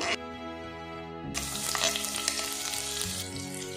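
Chopped garlic and black cumin seeds sizzle in hot oil in a pan, a steady frying crackle that brightens and grows louder partway through, with a low music bed underneath.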